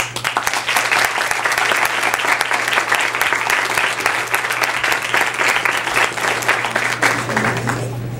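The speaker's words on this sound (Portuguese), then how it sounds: "Eu peço que vocês recebam com uma calorosa salva de palmas o nosso palestrante, Dr. Carlos da Costa." A large audience at a law school welcome event for first-year students gives a long, warm round of applause, steady and loud with a low electrical hum underneath.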